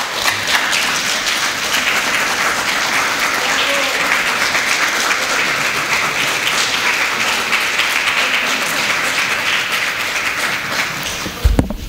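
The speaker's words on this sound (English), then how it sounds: "Let's give another round of applause for all our presenters tonight." Loud sustained applause from a large audience after a PechaKucha 20x20 presentation night talk, a dense even roar of clapping lasting about twelve seconds before a sudden thump at the end.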